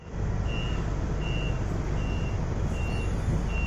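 Large city bus number 701 pulling up at a stop, a steady loud engine and road rumble with a regular high reversing-style beep repeating about once a second throughout.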